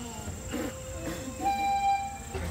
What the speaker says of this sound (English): So we're going on the train ride.